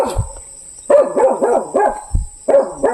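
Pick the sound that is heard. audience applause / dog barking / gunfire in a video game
dog barking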